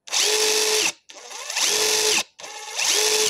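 A Stanley Fatmax SBW910M1K impact wrench spins up three times under its variable-speed trigger, each loud whirring burst ramping to a steady motor whine before a brief pause, close and alone.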